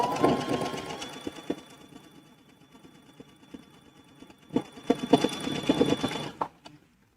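A sewing machine set to a stretch stitch runs a twin needle along a T-shirt hem. Close, steady mechanical whirring comes in bursts, with a long run near the end and brief pauses between the stitching.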